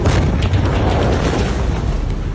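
The massive Beirut blast in Lebanon's capital comes through as a loud, sustained, dense roar with heavy low rumble and no distinct onset, filling the whole stretch without a break.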